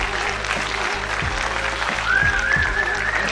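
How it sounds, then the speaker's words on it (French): Steady applause from an audience, a dense wash of clapping that swells slightly near the end, with a faint whistle rising over it. "Applaudissez-les bien fort s'il vous plaît."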